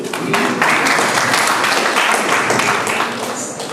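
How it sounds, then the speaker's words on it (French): Steady applause from a crowd, dense clapping that fills the room at constant loudness, tapering slightly at the end. "Il faut applaudir."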